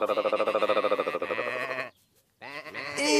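Cartoon lamb bleating in a children's animated tractor series, a long quavering harmonic bleat followed after a brief pause by a second rising bleat, close and loud with no talk.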